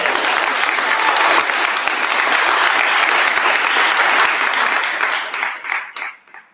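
An audience applauding at a jail program graduation put on by two county sheriffs, a loud, dense burst of clapping that holds steady and then tapers off into scattered claps.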